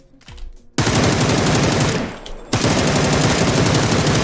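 Automatic gunfire in the video game PUBG, loud sustained bursts of rapid shots, briefly pausing before another long burst, with a few faint sounds before the first volley.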